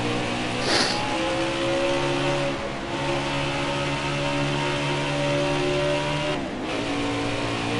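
A NASCAR stock car engine in the racing video game NASCAR Heat 4 drones loudly and steadily at high revs, with slight pitch shifts as the car holds the inside line through a corner.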